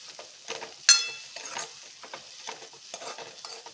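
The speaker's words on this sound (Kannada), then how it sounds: "ಈಗ ನಾನು ಸೌರೆಕಾಯಿನ ಕಟ್ ಮಾಡಿದ್ನಲ್ಲ ಅದು ಹಾಕ್ಕೊಳ್ತಾ ಇದ್ದೀನಿ. ಹಾಕಿ ಇದ್ರ ಜೊತೆಗೆ ಸ್ವಲ್ಪ ಫ್ರೈ ಮಾಡ್ಕೊಳ್ಳೋಣ." Chopped bottle gourd frying with ginger paste in a pan, a low sizzle broken by a sharp clatter as pieces go in, then intermittent scraping stirs, close and fairly quiet, with no voices.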